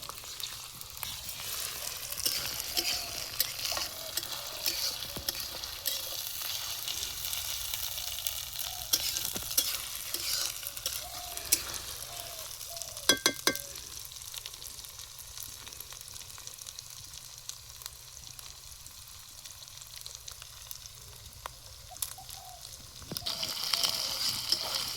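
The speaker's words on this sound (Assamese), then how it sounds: "পিঁয়াজ কাটা হৈ গৈছিল লাল লাল কৰি আদা লগত দি দিলোঁ তেলতে" Chopped onion and ginger fry in hot oil in a pan, giving a steady, soft sizzle that runs throughout with occasional light stirring scrapes.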